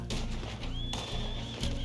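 A horse neighing in a video game, a loud whinny with a rising tonal cry, mixed with game sounds and soft hoof clatter, no speech.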